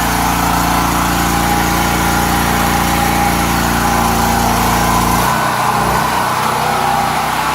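A Predator generator engine fitted with a Tonco 170F trifuel carburetor runs loud and steady at close range with a smooth, even drone, its low rumble dropping away near the end as the load or speed changes.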